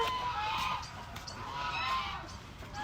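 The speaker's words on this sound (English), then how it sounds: "Here's some geese." Geese honk in scattered, fairly faint calls over outdoor background noise on a farm, with several higher-pitched honks repeating across the few seconds.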